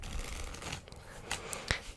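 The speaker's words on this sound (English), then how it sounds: "I'll even give it a good shuffle." A deck of playing cards is riffled and shuffled up close, a steady papery flutter with a few sharper snaps toward the end.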